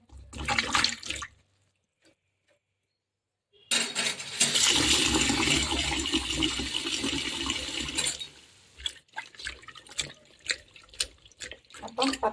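Water pours steadily into a container in a home kitchen as brinjal slices are set to soak, with a burst of clattering before a quiet pause, then a long continuous run of water, then scattered splashes and knocks.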